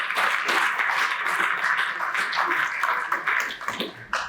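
Audience applause at a museum exhibition event, a dense, steady wash of many hands clapping that holds for several seconds and then thins out slightly toward the end.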